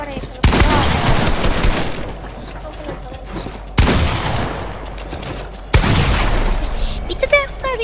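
Gunfire in Fortnite comes in three sharp bursts of rapid shots spaced a few seconds apart, each followed by ringing decay, with a Finnish-speaking player talking over the game.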